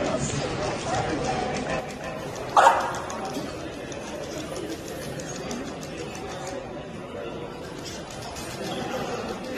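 A dog gives one short, sharp bark at a robot dog, while people chat quietly through the rest of the moment.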